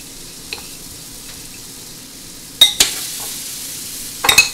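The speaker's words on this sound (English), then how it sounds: "And place another piece on the griddle." Eggnog French toast cooking on a griddle, a faint low sizzle running underneath a few sharp utensil clinks and clatters near the end.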